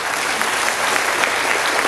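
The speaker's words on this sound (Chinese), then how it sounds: "我们也给我们的议会掌声鼓励一下" An audience claps throughout at the groundbreaking ceremony for an elevated section of the Taoyuan Metro Green Line, a dense, steady wash of applause with no pauses.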